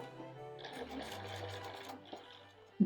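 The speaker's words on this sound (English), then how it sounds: "Sew the rows together." A sewing machine joining rows of sweatshirt patchwork, running in a short continuous burst of rapid mechanical stitching for about a second and a half, close and quiet, followed by a sharp click.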